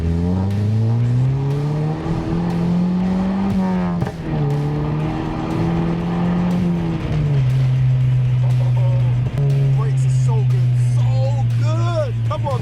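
A VW Scirocco TSI GT with an upgraded big turbo accelerates hard with its wheels spinning, giving a loud, continuous engine drone that rises and shifts pitch, with tyre noise and a voice talking over it throughout.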